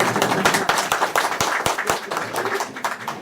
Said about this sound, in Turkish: Alkışlar istiyoruz.